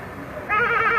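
A voice imitates a sheep bleating: one short, nasal, wavering bleat that starts abruptly halfway through and carries on to the end, close and fairly loud.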